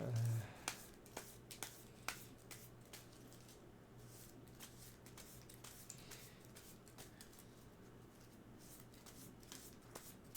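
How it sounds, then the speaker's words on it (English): Playing cards being shuffled at a tabletop game session, a series of soft riffling snaps and flicks repeating through the clip under a steady low hum, with faint talk in the room. "So I'll just start shuffling these."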